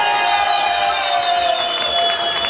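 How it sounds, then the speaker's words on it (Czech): A large crowd at a Prague boxing event applauds boxer Jan Hrazdíra after his fight, loud, dense clapping and cheering, with a commentator's voice running over it. "Ale velký potlesk pro Jana Hrazdíru, protože je opravdu odolnej."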